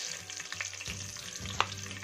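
Cumin seeds and broken green chillies fry in a pan for mutton jalfrezi, giving a soft, steady sizzle with light crackles and one sharper pop near the end.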